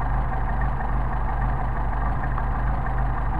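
A Mercedes 190SL engine with Solex carburetors idles steadily at operating temperature, a continuous low rumble with even, unbroken texture and no voices over it.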